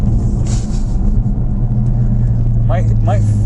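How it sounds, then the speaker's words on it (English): Ford Focus RS pushed hard along a tight road, its engine and road noise a steady loud rumble from inside the cabin, with a voice speaking briefly near the end. "But you are driving this faster down here than you've driven any other car"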